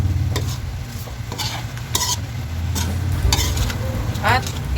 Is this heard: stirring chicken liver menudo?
yes